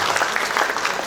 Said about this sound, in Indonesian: kita sekali lagi tepuk tangan sampai lagi